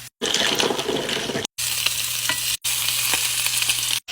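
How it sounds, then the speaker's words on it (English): Pork belly fries and sizzles in a pan, a steady loud crackle broken by two short pauses, with faint stirring clinks and a low hum beneath and no voices. "Now I'm just gonna cook down my pork belly to get rid of all that grease."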